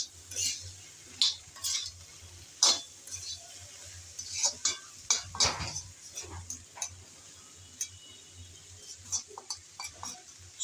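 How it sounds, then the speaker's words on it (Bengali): A spoon or spatula stirs spices into kochur loti (taro stolons) frying in a pan, giving a quick, uneven series of clinks and scrapes against the metal over a soft sizzle. "এখন সবগুলো মশলা দেওয়ার পর নেড়ে চেড়ে ভালোভাবে একটু মিশিয়ে নেওয়া হচ্ছে"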